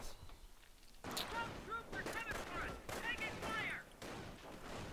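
Rifle fire in a World War II infantry battle from a real-time strategy video game, with US rifles against a German Volksgrenadier squad: sharp, repeated shots and bursts amid battle noise, under continuous commentary.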